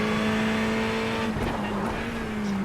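A Ferrari 488 Evo race car in iRacing, lapping the Hungaroring, holds a loud, steady engine drone at high revs, with a brief burst of tire noise as it corners.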